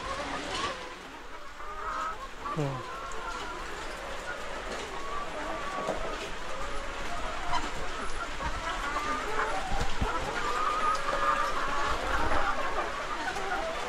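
Chickens, including egg-laying hens, cluck and call intermittently at moderate distance over a continuous outdoor background, with faint voices mixed in.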